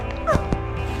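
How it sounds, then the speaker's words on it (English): A homeless puppy found in an abandoned apartment gives a short high yip and a faint whimper, close by over a low steady hum. "A homeless puppy was found inside an abandoned apartment in a decaying community."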